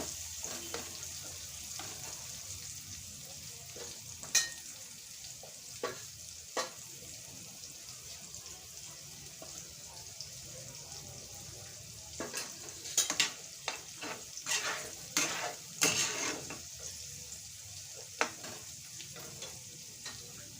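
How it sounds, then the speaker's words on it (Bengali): Pea pickle frying in a pan and being stirred: a faint, steady sizzle broken by sharp spoon scrapes and clinks, which cluster more densely toward the end. "করে নেড়ে চেড়ে দিতে হবে"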